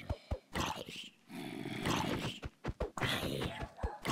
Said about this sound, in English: my dog's barking. He's been barking so much.